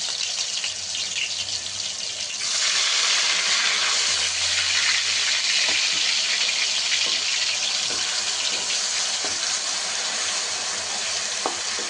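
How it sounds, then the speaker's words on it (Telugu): A loud, constant sizzle of ground onion paste frying in hot oil for a crab curry starts after a quiet moment and continues close up with occasional light clinks. "మనకి ఉల్లిగడ్డ కానీ ఈ పచ్చి వాసన పోయేంత వరకు మనం ఫ్రై చేసుకోవాలి"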